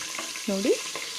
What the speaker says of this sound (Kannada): ಎಣ್ಣೆ ಕಾದ ನಂತರ ಮಟನ್ ಹಾಕ್ಕೊತಿದ್ದೀನಿ